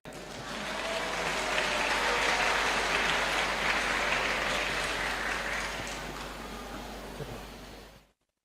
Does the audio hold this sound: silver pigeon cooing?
no